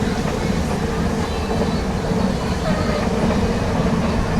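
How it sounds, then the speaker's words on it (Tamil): A loud, steady train rumble fills the scene, rolling on without letup, with a dense wash of rain noise, on a train in Sri Lanka near Vavuniya. "மழையோட ஒரு ட்ரெயின் பயணம்"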